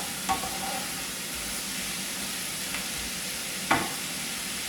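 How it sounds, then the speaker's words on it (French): Shrimp spaghetti sauce with crumbled vegetable broth cube sizzles steadily in a pan while a utensil stirs it, with a few soft scrapes and taps against the pan rising above the constant hiss. "Remuez."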